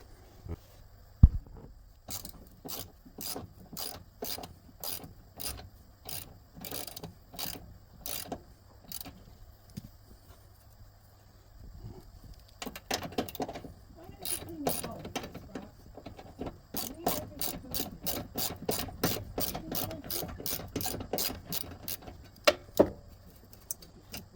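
A socket set ratchet loosens a bolt on the deck of a Rover Rancher 547/42 lawn mower, with bursts of rapid, close clicking separated by short pauses and no talking.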